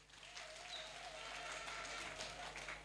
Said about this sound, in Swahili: Naomba tujipigie makofi